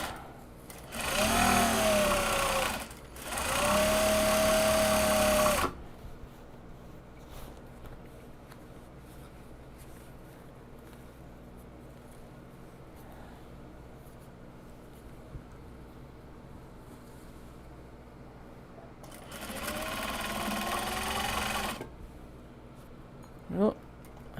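A sewing machine stitches the end seam of a small box bag in two loud bursts at the start and a third later on, with a quiet hum between runs.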